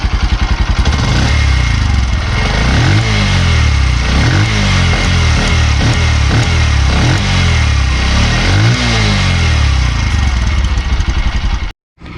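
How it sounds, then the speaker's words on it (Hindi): A 2021 Bajaj CT110X motorcycle engine runs close by, chugging and idling with a few throttle blips that swell and fade in a rough, repeating rhythm. "बहुत कम आवाज़ आ रही है इंजन की तरफ से।"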